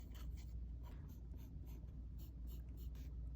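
A vintage J. Harris & Co. University fountain pen with a fine to medium nib writes on paper, faint close scratchy strokes in short repeated bursts over a low steady background hum.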